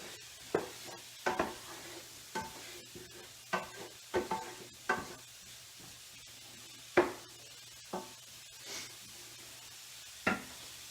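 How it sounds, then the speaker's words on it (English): Apples and onions cooking in a pan, with a quiet, steady sizzle beneath a series of sharp clacks and scrapes from stirring at irregular intervals, no voices. "So now we've got the apples and the onions going."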